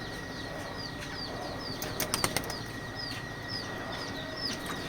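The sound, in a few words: young racing pigeons bathing, flapping wings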